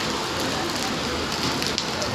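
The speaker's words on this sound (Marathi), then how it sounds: "बघा किती पाऊस चालू आहे आमच्याकडे." Heavy monsoon rain falls steadily as a dense, broadband wash with no pauses, loud and close across the whole stretch, with a faint bump near the end.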